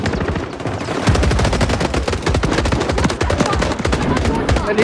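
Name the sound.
gunfire hitting the enemy in the video game Warzone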